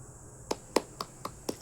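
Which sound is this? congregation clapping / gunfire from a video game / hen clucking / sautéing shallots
congregation clapping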